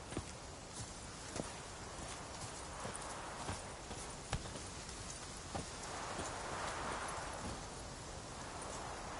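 Steady horse hooves clip-clopping at a walking pace in The Witcher 3 game, with a soft wind-like rush swelling in the background; no talking.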